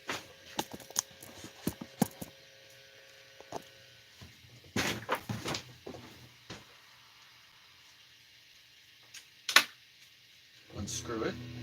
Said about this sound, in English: Unscrew it.